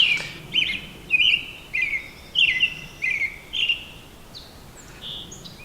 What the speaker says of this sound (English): Nice morning with the birds singing.